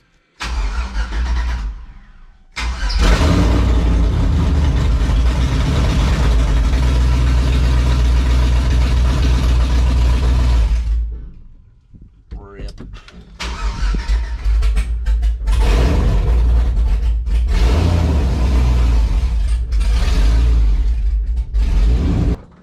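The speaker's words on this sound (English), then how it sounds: "start up. Open headers in the shop." A cammed 5.3 V8 in a Silverado, running open headers inside a shop, cranks and fires with a loud, harsh roar, then idles and revs rough and choppy before a short lull and another stretch of booming engine noise.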